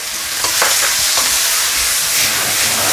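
Cured pork and sausage stir-fried over high heat with shiitake, spring bamboo shoots and peas, giving a loud steady sizzle broken by scraping spatula strokes, with no voices.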